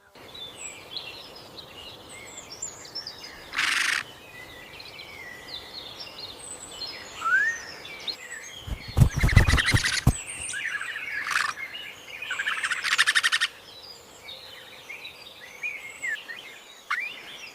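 A pileated woodpecker fledgling calls near its nest, with short chirping notes scattered through quiet woodland ambience. A few louder bursts stand out, one a brief broadband rush.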